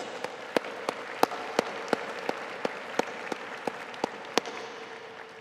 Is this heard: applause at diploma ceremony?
yes